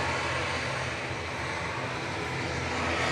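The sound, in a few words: EasyJet airliner touching down at Manchester Airport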